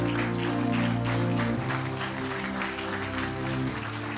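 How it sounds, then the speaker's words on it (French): A congregation stands and applauds, acclaiming the Lord at a prophetic church service, with dense, steady clapping and cheering layered over sustained keyboard chords for the whole stretch. "Est-ce qu'on peut se tenir debout en acclamant le Seigneur?"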